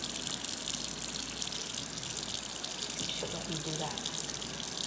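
Warm water runs steadily from a tap during a Yorkie puppy's bath, a continuous close rushing that fills the clip while a person speaks softly over it.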